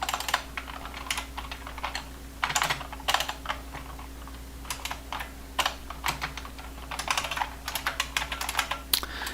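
Someone types on an original 1985 computer keyboard, with irregular bursts of crisp key clacks and short pauses over a low steady hum, fairly close and moderately quiet.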